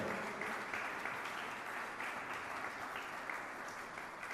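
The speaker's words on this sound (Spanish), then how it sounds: "Alguien déle ofrenda de palmas a Cristo." A church congregation claps steadily as an offering of praise, a dense, continuous wash of many hands close and loud, sustained evenly throughout without pause.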